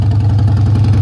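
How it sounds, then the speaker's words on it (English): A 2016 Harley-Davidson Dyna Street Bob motorcycle engine idles loudly and steadily up close, a deep rumbling throb with an even pulsing rhythm and no talking. "It's a loud bike."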